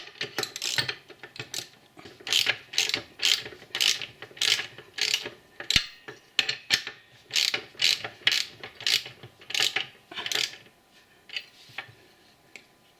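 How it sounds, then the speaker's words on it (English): A ratchet with a 17mm socket tightens a bolt on a DemonX Phatboi pit bike, giving a rhythmic series of close, loud clicking pulls, about one per half second, that stop near the end. "and then gets tightened with a 17mm"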